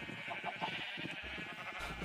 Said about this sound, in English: I'm trapped in the sheep.